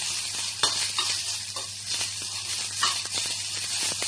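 Sliced onion sautés in a pan for a simple bread recipe, a bright steady sizzle broken by repeated scraping and tapping stirs of a spatula close by.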